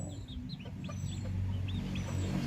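Backyard chickens cluck and chirp in scattered short calls over a steady low rumble, moderately close, with no talk.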